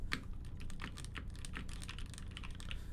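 Rapid, close typing on an Iron165 mechanical keyboard with a copper keycap, with a dense run of crisp clacky keystrokes, fairly quiet and with no voices.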